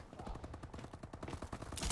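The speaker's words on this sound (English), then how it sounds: "I hear someone shooting" Rapid automatic gunfire in the video game Call of Duty Advanced Warfare, a dense stream of shots at a steady quick rhythm, moderately quiet and continuous, swelling louder at the very end.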